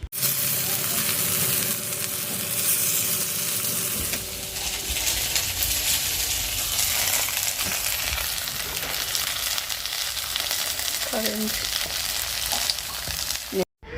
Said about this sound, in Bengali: তো একবারে তো এতগুলো বড়া ভাজা যাবে না তাই অল্প অল্প করেই আমি ভেজে নিচ্ছি